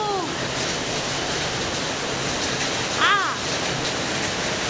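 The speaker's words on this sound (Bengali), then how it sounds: "বৃষ্টি হচ্ছে দেখো গাইস, বৃষ্টি হচ্ছে দেখো" Rain pours steadily during a storm near a forest by a river, a dense, even wash of noise throughout, with a brief bird call cutting through once.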